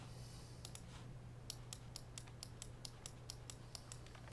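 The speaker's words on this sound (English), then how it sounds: "Get the deck shuffled up." Quiet, rapid papery riffles and crisp clicks repeat in quick bursts close by, like cards being shuffled, with no voices.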